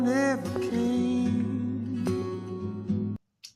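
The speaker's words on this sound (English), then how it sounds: "With this sonar beeping sound you hear on boats." A song plays a steady tonal pattern with a sonar-like beep near the end, sitting over sustained harmonic music that cuts off abruptly.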